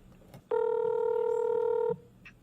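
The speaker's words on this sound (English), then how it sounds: "We'll be calling Ryan shortly." An outgoing telephone call being placed before a missing-persons conversation: a single steady dial or ringback tone, clear and close, holding for about a second and a half with no talk.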